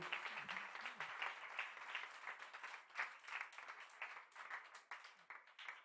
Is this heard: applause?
yes